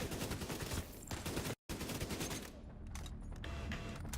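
Rapid assault rifle fire in The Division 2, a dense stream of gunshots that cuts out for a moment and then carries on in steady bursts.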